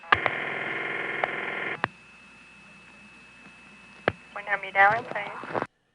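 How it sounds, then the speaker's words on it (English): Ringback tone on a 1976 Spotsylvania, Virginia telephone trunk, heard while the call waits for an intercept trunk to answer: a steady, fairly loud ringing burst that stops, then brief clicks and warbling, tone-like line sounds follow. "And now we're hearing ring sound"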